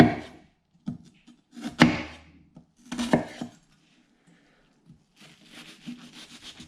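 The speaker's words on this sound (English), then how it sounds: "slice into the onion." Sharp knife slicing into an onion on a cutting board: several separate crisp cuts and board taps, close and fairly quiet, with a softer run of light slicing at the end.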